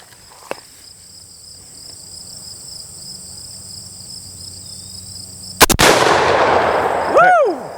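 Out at a bottle-shooting range, a lever-action rifle fires one sharp, loud crack near the end. A faint pop sounds earlier, and a steady background of insects buzzes throughout.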